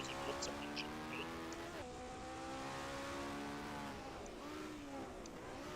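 A 1970-era Formula 1 car from an F1 racing video game runs in steady high engine tones that fall and warble as it engine-brakes through downshifts, with quick gear-change dips and no talking.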